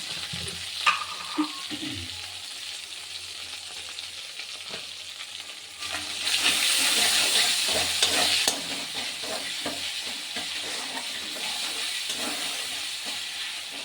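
Spices frying and being stirred in a pan with tomato and salt for a vegetarian daliya dish, a steady sizzle with scraping stirs and a brief louder burst of hiss partway through.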